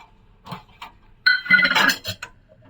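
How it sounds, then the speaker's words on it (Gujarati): An iron pan is set on a gas stove in a home kitchen, giving a few short metallic clanks and scrapes, the loudest cluster near the middle, with quiet gaps between. "તો આપણે એક લોયું લઈ લીધું છે અને ગેસ ચાલુ કરી દઈએ."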